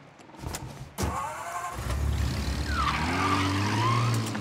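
A car engine starts in Mafia: Definitive Edition, a sharp crank and then an engine catching and settling into a loud, steady idle. A rising and falling whine follows as it revs, alone and close.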